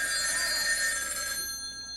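A telephone bell rings steadily and fairly loud on a talk-show set, its bright tone sustained for over a second before cutting off into quiet room tone.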